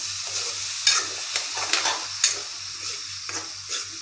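A spice mixture with garlic and turmeric is stirred into fish curry in a pan. Quick, close spatula strokes scrape at an uneven rhythm over a steady sizzle, with no one speaking.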